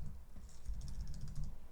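Fast typing on a computer keyboard while entering a formula in Google Sheets: a quick, close run of soft key clacks over a low background rumble.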